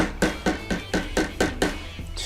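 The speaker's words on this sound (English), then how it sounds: "you're gonna start to hammer from the side" A hammer taps guitar frets into a fretboard from the side toward the center, giving about eight crisp, evenly spaced knocks close to the listener.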